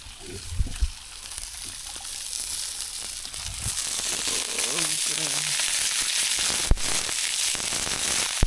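Fish fries on a hot tawa at an outdoor roadside spot near Manchanabele Dam, a close, crackling sizzle that grows denser and louder, with a few clanks of utensils.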